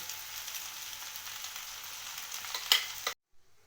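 Leftover rice fries in a pan with a soft, continuous sizzle, joined near the end by a brief stir and scrape before the sound cuts off abruptly.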